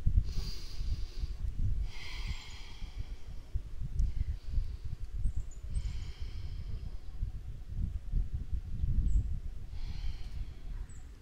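A yoga instructor holding a pose takes slow, audible breaths through the nose, soft rhythmic inhales and exhales repeating several times, close and quiet with no speech.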